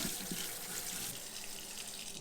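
Water runs steadily from a sink faucet while fresh oysters are rinsed, a continuous close hiss and splash at low level with no talk.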